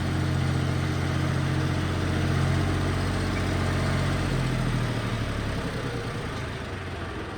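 A New Holland tractor engine drones loudly and continuously under heavy load, its pitch sagging as the rpm drops, near and steady with no talk.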